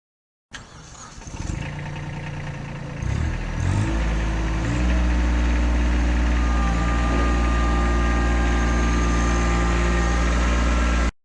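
A Kubota B7500 tractor engine starts up and settles into a steady, heavy running drone with deep low rumble, continuing without pause close by.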